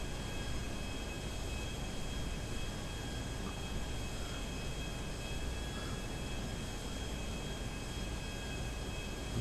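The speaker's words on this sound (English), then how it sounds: "I kinda just like to fly over them with a jet." Steady jet engine roar from a fighter jet flying high over mountains in Grand Theft Auto V, a continuous broadband rush with a faint high whine, no voices.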